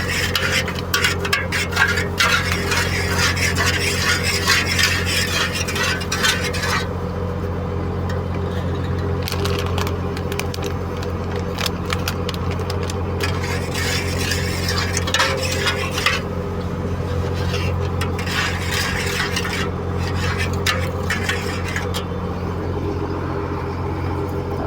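A spoon stirs a pot of milk powder mixture on a gas stove with continuous scraping and clinking against the metal, steady and close, under a low hum.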